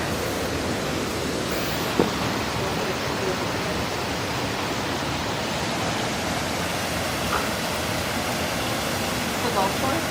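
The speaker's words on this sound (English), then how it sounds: "is that waterfalls?" A waterfall at a San Diego resort villa rushes steadily as a broad, constant wash of water, with a few small clicks and knocks against it and no pauses.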